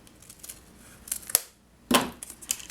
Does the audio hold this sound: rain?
no